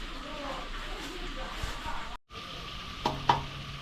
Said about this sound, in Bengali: চিপস পকোড়াগুলো ভাজা হচ্ছে এখন প্রায় অনেকটাই হয়ে গেছে